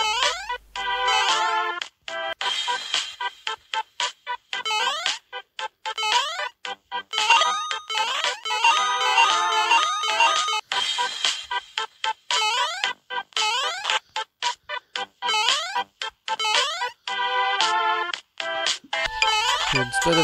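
Bouncy, repetitive background music from a Mario Maker-style mobile platform game, a bright chiptune melody with steady rhythmic notes running continuously and loud, without talk.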